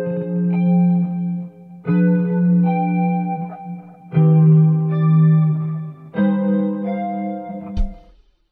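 Electric guitar sounding sustained, effect-laden chords over a minor 2-5-1 progression, four long swelling chords with a smooth chorus-like shimmer, close and alone, ending in a brief low thump.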